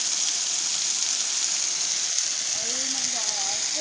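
Cold outdoor waterfall pouring steadily, a loud broadband rush of falling water filling the scene, with brief voices and a short exclamation heard faintly over the roar.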